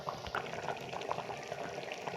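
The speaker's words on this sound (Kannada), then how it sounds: "1 ಪಾವು ಅಕ್ಕಿಗೆ 2 ಲೋಟ ನೀರು ಹಾಕಿಬಿಟ್ರೆ ಹಿಂಗೆ ಕುದಿಯುತ್ತೆ." Water at a rolling boil in a pot, ready for rice to go in for an egg and chicken biryani, with close, irregular bubbling pops and gurgles over a soft simmering hiss.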